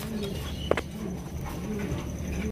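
Domestic pigeons kept for sale, including red indigo birds, coo softly in a steady low murmur beneath faint background noise, with one brief sharper call near the start.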